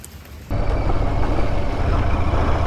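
Steady rain falls over rice paddies and old houses near a shed, a dense even hiss that starts abruptly and holds constant at moderate loudness throughout.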